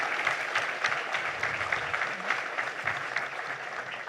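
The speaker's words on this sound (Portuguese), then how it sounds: "mais uma salva de palmas eu peço para vocês" Audience at a general assembly meeting applauds with sustained, even clapping throughout, moderately loud and close, with no speech over it.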